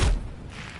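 A sniper rifle fires in a multiplayer video game: one heavy, booming shot right at the start, fading quickly into a dull, low decaying tail.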